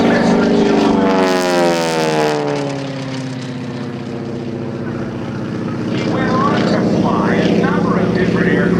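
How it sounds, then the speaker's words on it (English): T-6 Texan, the World War II advanced trainer, diving at the Cleveland National Air Show: a loud propeller-engine roar sweeps down in pitch as it passes, then dips and swells again, with an announcer talking over it. "The aircraft you see diving in was the advanced trainer in World War II, and bringing it to us here, this is Mr. Jim"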